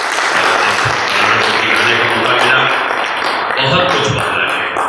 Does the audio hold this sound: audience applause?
yes